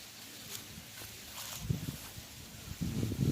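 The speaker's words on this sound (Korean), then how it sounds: "바람 소리 너무 좋네" Steady outdoor wind rushing and buffeting on a rural hillside in autumn, with low gusts swelling toward the end and faint rustling underneath.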